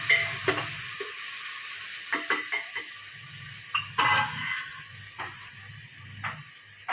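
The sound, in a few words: stirring vegetable khichdi tempering in pan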